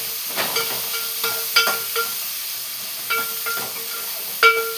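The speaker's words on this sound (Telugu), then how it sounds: "అదే నూనెలో ఆనియన్స్ వేసేసుకోండి." Onions frying in hot oil, reused from earlier frying, give a steady close hiss and sizzle with soft clinks and scraping taps of a spatula against the pan at irregular intervals, with no talk.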